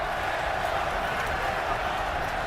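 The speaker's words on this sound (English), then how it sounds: "the crowd, of course, a huge Russian contingent, Gus, chanting the Fedor name" A large Russian crowd at a fight event chants Fedor's name, a dense, steady roar filling the whole stretch at moderate distance with no distinct beats or pauses.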